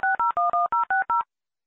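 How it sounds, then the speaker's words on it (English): Seven crisp telephone keypad dialing tones sound one after another in an even, quick rhythm as a number is dialed, each a short two-note beep, followed by silence. "John dials Mary's number"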